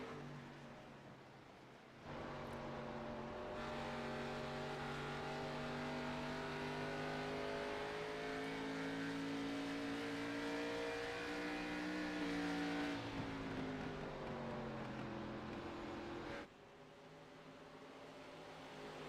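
Race cars at Rockingham Speedway roar past in a sustained, fairly distant engine drone that swells and falls in pitch as the pack goes by, between quieter stretches at the start and end.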